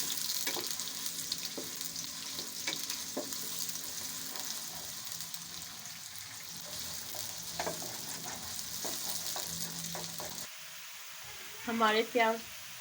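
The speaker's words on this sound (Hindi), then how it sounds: "अब इसमें हम ये प्याज डाल देते हैं और हम इसको फ्राई कर देते हैं।" Onions frying in hot oil, a steady close sizzle with occasional clinks and stirring, then a brief voice near the end.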